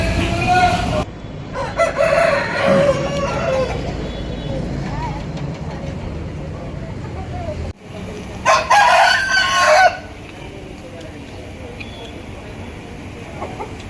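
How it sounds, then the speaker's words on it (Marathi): Roosters crow repeatedly at close range over a noisy, rumbling background, with people talking intermittently between the calls. "या ठिकाणी ना खूप सारे कोंबड्या आहेत"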